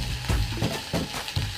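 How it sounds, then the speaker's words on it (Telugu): Fenugreek leaves with dried red chillies and a spoon of salt frying in a pan, stirred in repeated scraping strokes over a steady close sizzle, with no voices. "చేతి లేకుండా ఫ్రై చేస్తున్నాను."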